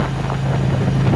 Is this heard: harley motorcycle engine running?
yes